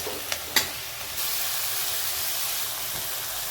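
Brinjal pieces sautéed in oil for a Makar Sankranti Bhogi bhaji: two sharp clicks of a utensil, then a steady hot-oil hiss that swells and holds, close and without talk.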